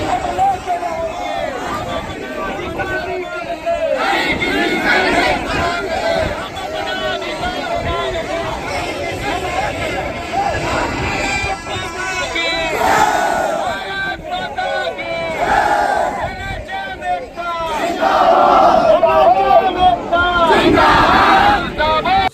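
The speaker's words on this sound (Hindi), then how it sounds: "आपने देखा कि भीड़ काफ़ी ज़्यादा है" Large protest crowd of contract health workers under the National Health Mission in Chhattisgarh, rallying for their demands, with loud collective chanting and dense babble that continues steadily throughout, rising to a louder peak near the end.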